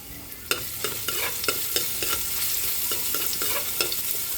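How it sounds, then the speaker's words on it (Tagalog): Garlic sautéing in a pan for beef puchero, a loud continuous sizzle broken by a quick regular run of stirring clicks and scrapes, close up with no voices. "Ginisa ko na po yung ating bawang"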